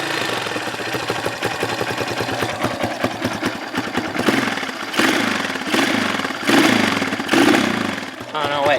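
Honda CRF230 dirt bike engine idling with the choke being adjusted, a steady low putter running throughout, with a person talking over it.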